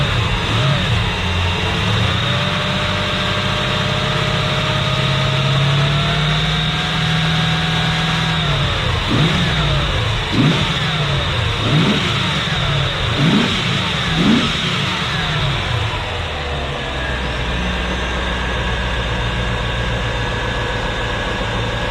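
A 1995 Corvette with a 5.7L LT1 V8 runs and warms up, holding a steady idle with a cluster of short revs in the middle before settling back, close and even, with no talking.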